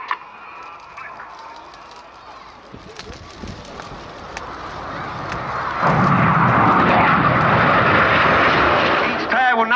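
Hawk jets roaring in a flying display at the Cosford airshow, a distant engine rumble swelling to a loud, broad roar in the second half, under a public-address commentator's voice.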